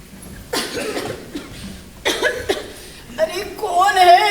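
An old woman coughs in several harsh bursts, close and loud, with throaty rasping and some chuckling mixed in, and a voice talking around the coughs.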